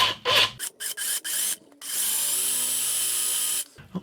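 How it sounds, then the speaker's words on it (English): A power drill with a long, dull bit revs in short bursts, then grinds steadily for a couple of seconds as it bores through a wooden guitar body from the jack socket hole, loud and close. "I'm going to do that with this nice long drill through the jack socket"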